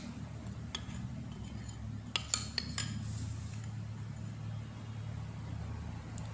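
A metal spoon clinks against a bowl while scooping seasoning for beef meatballs, a few light taps and scrapes, with a short cluster of chinks over a low kitchen hum.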